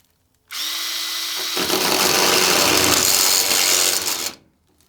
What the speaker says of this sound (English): You have to start the drill going first,